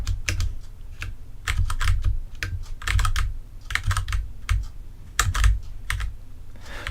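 A computer keyboard is pressed in quick, irregular bursts of clacking keys during gameplay, close and fairly loud with short pauses between flurries.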